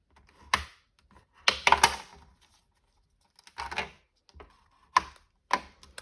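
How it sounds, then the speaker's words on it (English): Scored cardstock is folded and burnished for a pillar fold card, with a few short, dry crisp rubs and taps spaced apart against a quiet background. "if we fold them over and just burnish them"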